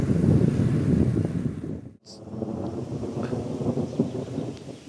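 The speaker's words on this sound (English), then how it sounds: "So the storm's right overhead," Heavy roaring wind buffets the microphone during a roadside thunderstorm directly overhead, with a dense low rumble that drops out for a moment midway and then returns at full strength. No voices are heard.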